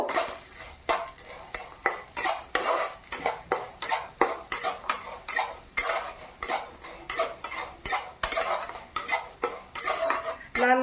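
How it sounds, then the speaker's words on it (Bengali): Lentil dumplings (bori) fried in mustard oil in a wok, heard as a steady run of clinks, scrapes and stirring knocks of a utensil against the pan with a soft sizzle beneath, close and fairly loud, no talking. "কড়াইয়ের মধ্যে দিয়ে দিলাম সামান্য পরিমাণে সর্ষের তেল এবারে ওই তেলে আমি বড়িগুলোকে"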